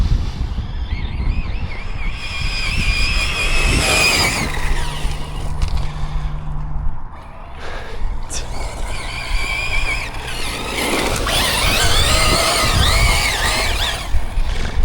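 A Team Corally Shiroi 6S electric RC truck drives and skids on rough ground, giving a continuous high whining motor with rising and falling pitch, tyre scrub and wind buffeting across the whole stretch. Nobody talks.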